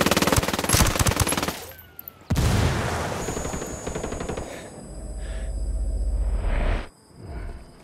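A grenade and heavy gunfire in the shooter game Ghost Recon Wildlands: rapid automatic bursts crackle at first, then a loud blast and a long rumbling roll of explosions and shots, dense and close.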